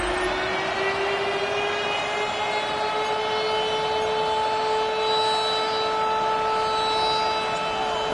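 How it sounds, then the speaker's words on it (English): Big Red Siren air raid signal sounding through the Arizona Cardinals stadium in Glendale, a steady sustained wailing tone with layered harmonics held loud and unbroken throughout, over a broad crowd-like wash. "the Cardinals listening for the sound of their signature Big Red Siren, which signals an air raid"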